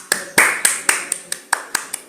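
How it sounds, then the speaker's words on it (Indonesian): Audience applause comes from the back of a room at a webinar, heard as about ten sparse, distinct claps in an uneven rhythm. "Saya kembali boleh mendengar tepuk tangannya dari belakang sana untuk semangat"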